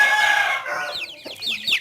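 Adult chickens cluck and squawk nearby while being fed corn, a quick run of short, choppy calls rising in pitch, loud and close with no talking over them.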